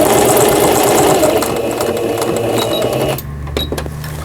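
A Singer 5400 sewing machine runs steadily, stitching a decorative snowflake pattern in a rapid mechanical whir that stays loud and close, easing slightly toward the end.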